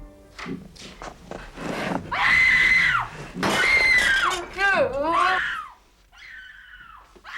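A man in a 1980 film screams in terror in long, loud, strained bursts, with other shrieking cries and commotion around them, then a quieter stretch at the end.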